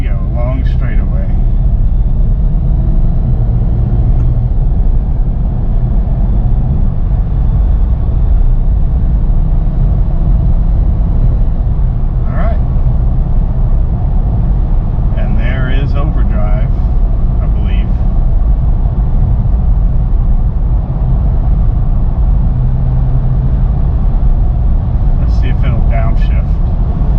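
A Nissan Xterra cruises down a long straightaway, its engine and road noise droning loud and steady from inside the cabin, with someone talking over it.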